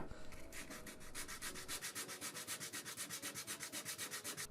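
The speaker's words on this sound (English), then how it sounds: "back at it with the sandpaper, burnishing the edge of that leather." Sandpaper burnishes the edge of a leather piece for a joiner's mallet, making steady rhythmic back-and-forth rasping strokes, close and fairly quiet, with no talking.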